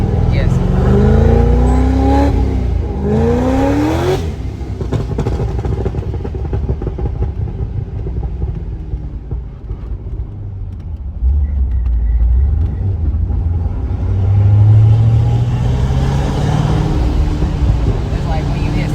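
A Chevrolet Corvette C6 engine rumbles and climbs in pitch as it accelerates through the gears on the street, easing off and pulling again, with voices talking over it throughout.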